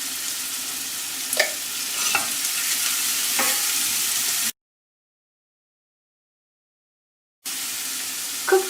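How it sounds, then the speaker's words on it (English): Onion frying in a pan over a lowered flame, steady sizzle with several distinct scraping stirs, close and clear, broken by a stretch of silence before the sizzling resumes. "Cook the onion till it turns translucent."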